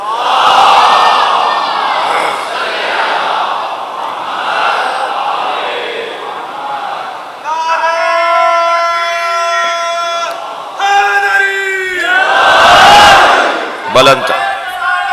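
A congregation at a Shia majlis loudly recites salawat in unison, a roaring crowd chant with sustained tonal swells and surges, close and forceful throughout.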